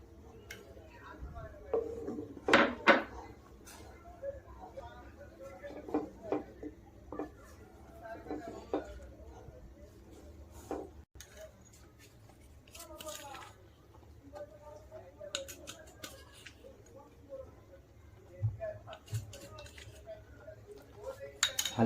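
A spoon stirs Amul milk powder into thickened milk in a pan, with scattered clinks and scrapes against the metal, some spaced, some in quick bursts, over a low kitchen background.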